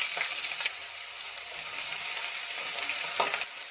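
Onions dropped into a spoonful or two of hot oil in a pan, frying with a dense, even sizzle and occasional stirring swishes close by.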